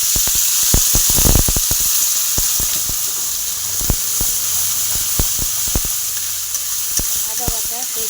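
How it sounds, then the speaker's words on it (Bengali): Two chillies and white cumin sizzling in hot oil, a close, steady bright hiss of frying with scattered sharp pops and crackles and no talking. "এখানে 2টি লঙ্কা আর সাদা জিরে ফোড়নে দিয়ে দিলাম"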